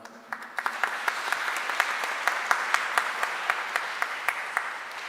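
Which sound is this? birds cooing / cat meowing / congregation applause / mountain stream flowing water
congregation applause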